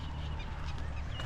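Geese or fowl honking in a rural Bengali village at midday, faint and distant calls over a low steady background with no talk.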